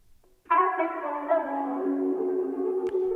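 A short melodic sample, treated with an RC20 wide wobble preset, enters after a brief silence as a sustained, slightly wavering chord with a digital, lo-fi texture, ending with a faint click.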